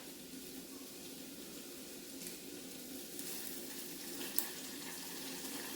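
Mustard seeds crackle and curry leaves fry in hot oil, a steady faint sizzle with a few sharp pops near the end, no talking.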